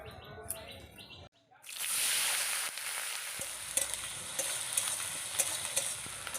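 Spices frying in leftover fish oil with tomato, ginger and garlic paste, a loud close crackling sizzle that bursts in after a brief pause and keeps spitting and popping steadily.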